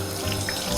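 Water runs from a tap into a sink as hands are rinsed in a clinic, a steady continuous splashing stream heard briefly and evenly.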